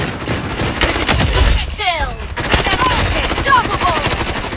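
Rapid automatic gunfire from the shooter video game Blood Strike, loud bursts of rattling shots with brief gaps and scattered effects, while a player talks over the action.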